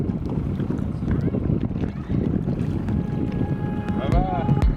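A paddle dips and splashes in shallow sea water off La Paz, Mexico, with soft watery sloshing under steady wind noise buffeting the microphone.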